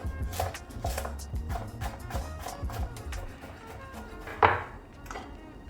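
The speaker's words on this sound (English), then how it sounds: "So starting off with the flat eggs, you just want to slice them up thinly." Quick repeated knife strokes thinly slicing a flat egg omelette tap against a cutting board in a steady rhythm, light and close, with one sharper knock near the end.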